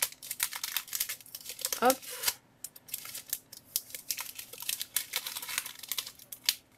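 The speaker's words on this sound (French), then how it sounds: "Et on va ouvrir donc le dernier booster de Florizard" A Pokémon Generations booster pack is crumpled and torn open by hand, a close crinkling foil rustle with a brief ripping burst partway through, under quiet French speech.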